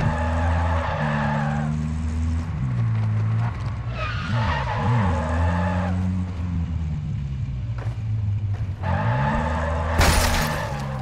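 In a video game, a car with a popped tire skids and screeches over a low engine rumble. A long squeal rises and falls, ending in a harsh burst of noise.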